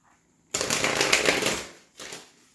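A deck of tarot cards is riffled close by in one long shuffle, followed by a shorter second burst of card flutter.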